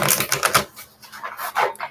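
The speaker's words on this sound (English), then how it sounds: "I'm going to shuffle it really quick." An oracle card deck being quickly shuffled, with a loud, close burst of rapid papery riffling clicks followed by a softer second flurry.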